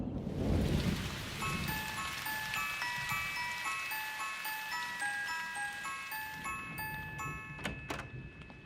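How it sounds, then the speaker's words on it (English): Heavy cartoon rain pours steadily outside, a dense continuous hiss with a light melodic score running above it and a few sharp tick-like drips near the end, no voices. "It's really raining hard out there."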